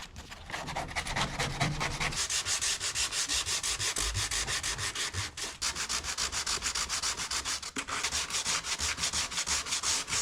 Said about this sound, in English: we're going to do that with sanding blocks